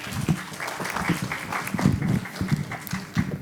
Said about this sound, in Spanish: Un fuerte aplauso para los patos.